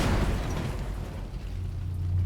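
In a World War II video game weapons test, a 7.5cm le.IG 18 or Soviet 76mm M1927 gun fires a shell at a Soviet T-26 tank, a loud booming blast with a long rumbling tail and a low hum after.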